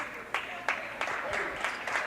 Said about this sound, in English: the seniors get a round of applause there